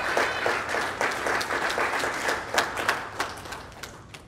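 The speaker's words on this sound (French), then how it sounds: "je vous demande d'applaudir" Applause from a church congregation at a fifth-anniversary celebration dinner, a moderately loud, steady wash of many hands with a few sharper individual claps standing out, lasting about four seconds.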